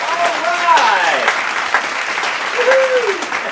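Studio audience applause fills the stretch, steady and dense with some whoops and voices riding over the clapping throughout.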